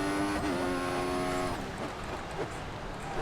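A Mercedes Formula 1 car engine in the video game F1 2014, high revving tone that shifts pitch then drops away, moderately loud with no talking.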